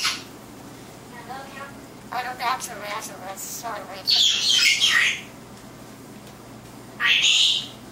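A pet bird chirps and squawks at home, with short bright chirps early on and two loud, sharp squawk bursts later, close to the microphone, between quiet stretches and a person's affectionate talk.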